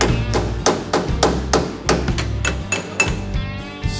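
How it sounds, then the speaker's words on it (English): Repeated taps of a small hammer seating a truck door on stiff, never-fitted hinges in a custom garage, about a dozen quick close knocks in an uneven rhythm, fading slightly toward the end, no voices. "You want a little hammer to tap it in?"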